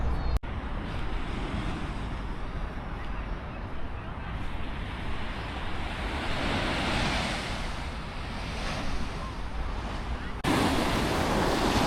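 Ocean waves roll onto a beach in Xiamen, China, a continuous loud rushing surf mixed with gusty wind buffeting the microphone, sustained throughout.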